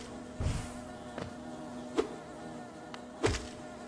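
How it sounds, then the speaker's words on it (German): Mosquito-like insect buzzing from the video game Hollow Knight, a thin continuous drone running under a few soft, dull thumps and clicks, with no talk. "Das klingt wie eine Mücke"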